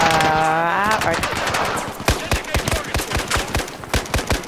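Battlefield 4 firefight with rapid bursts of loud machine-gun fire cracking in quick succession, a steady rhythmic stream of shots following an earlier rising whine, close and dense.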